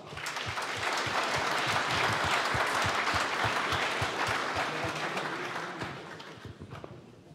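Warm applause for a team of city council candidates at a campaign presentation, dense clapping that fills the room loudly and steadily before thinning out and fading toward the end.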